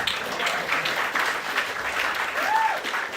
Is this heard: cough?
no